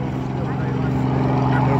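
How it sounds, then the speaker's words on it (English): A helicopter running nearby on the ground as passengers approach for a first ride, a loud continuous rotor and turbine drone with a steady low throb filling the whole moment. "So we're approaching the helicopter."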